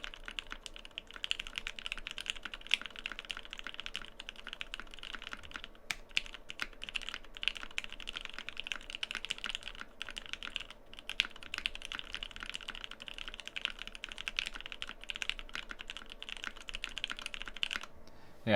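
Continuous, steady typing on a Keycult No. 1/65 rev1 mechanical keyboard with Gateron Black Ink switches, dense rapid keystrokes clicking and clacking close up with no talking.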